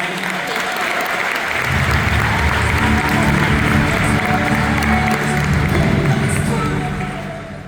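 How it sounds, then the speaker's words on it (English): Audience at a Destination D23 Disney fan event panel applauding, loud sustained clapping from a large crowd that holds steady for several seconds before starting to taper off. "Let's give James another round of applause"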